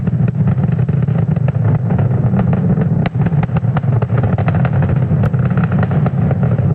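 A SpaceX Falcon 9 rocket carrying Starlink Group 5-4, launched from SLC-40 at Cape Canaveral, flies at supersonic speed. Its distant roar is a continuous rumble with rapid crackling pops throughout.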